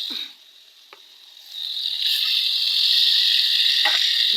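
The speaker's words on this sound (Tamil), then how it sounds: "பூண்டு எண்ணெயில் நல்லா வசக்குனால நல்லாயிருக்கும்." Crushed white garlic sizzles in hot oil for a kulambu, a faint start building into a steady close hiss, with a few soft stirring taps and no talk.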